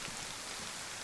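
Steady rain falls in DayZ on the Chernarus map, a faint, continuous hiss of drops with no breaks and no voices.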